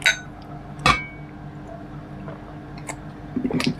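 Glasses clink in a toast over a Filipino meal of chicken tinola and fried tilapia: several sharp, bright taps spread out over a few seconds, close and fairly loud, with a soft scuffle of handling near the end.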